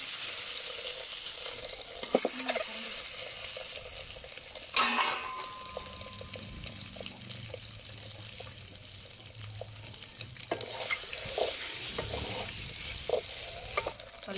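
Eggs frying in oil seasoned with turmeric and chilli powder, a steady close sizzle with scattered crackles and spoon scrapes, one louder pop partway through.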